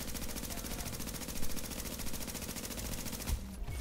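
Rapid automatic gunfire from a firefight in The Division rattles on in a steady, dense stream of shots at close range, then cuts off abruptly near the end.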